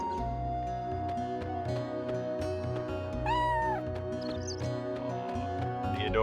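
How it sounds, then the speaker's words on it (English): Chrono Cross video game cat meows, a few short rising cries, over constant background music with a steady beat. "The adorable kitty sounds."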